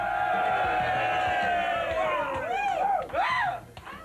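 A TV studio crowd, whipped up by the host, cheers and whoops loudly in a sustained roar, with rising yells and whoops swelling toward the end before fading.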